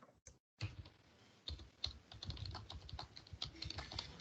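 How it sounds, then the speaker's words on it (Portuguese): Typing on a computer keyboard, a steady run of quick, close key clicks that starts after a brief pause and continues unbroken. "Se eu digitar aqui, sei lá,"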